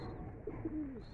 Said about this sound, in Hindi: देखिए आवाज़ें मारते हैं कबूतर जो है